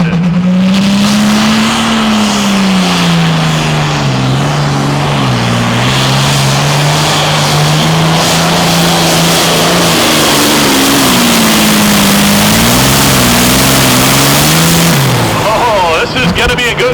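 A 9,300 lb diesel pulling tractor at a Pro Pulling League event in Hillsboro, Wisconsin roars steadily under heavy load, its loud engine tone wavering and dropping as it labors down the track, with an announcer talking over it throughout.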